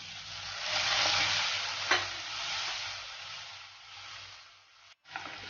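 Brinjal masala with onion, tomato and salt sautés in an oiled pan, giving a continuous sizzle with stirring scrapes and a brief sharp clink, then a short pause before frying resumes, no talk.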